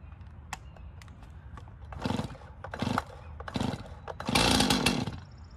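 A lightweight chainsaw cuts through cherry wood in several revving bursts, each growing louder, with the last and longest lasting about a second. An idling engine hum runs between the cuts.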